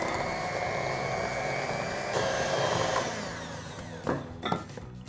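An electric hand mixer creams cupcake batter of eggs, vanilla extract, salt and baking powder with a steady close motor whir, briefly louder in the middle, then ending in a few clattering knocks against the bowl.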